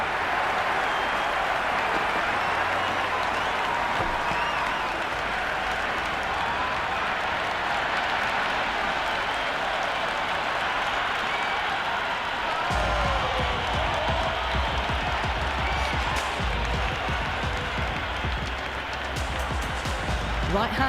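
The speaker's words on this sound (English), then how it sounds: "Will you listen to that crowd? They are loving this." A large cricket stadium crowd at a one-day World Cup final applauds and cheers in a continuous roaring wash, with a commentator talking over it the whole time.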